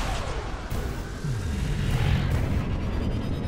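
Missile explosions in a space combat video game, a continuous rumbling roar of blasts and bursts, loud and dense with swelling low booms.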